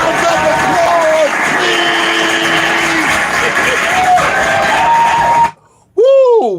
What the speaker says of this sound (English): Give all my riders a round of applause